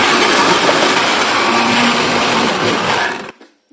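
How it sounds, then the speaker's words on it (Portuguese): A kitchen blender whirs loudly and continuously while mixing cassava cake batter, a steady close motor roar that cuts off abruptly after about three seconds. "por isso que eu resolvi fazer dessa vez aqui no liquidificador"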